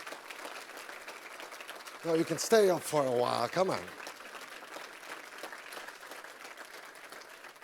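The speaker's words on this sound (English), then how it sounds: "Please give him a warm round of applause for his film Hannah" An audience at the International Film Festival Rotterdam applauds a filmmaker, a steady wash of clapping running throughout, with a voice talking over it near the middle.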